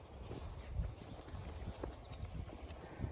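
Faint, uneven hoof thuds of a mare shifting and stepping nearby, with low rumbling background noise and no talking.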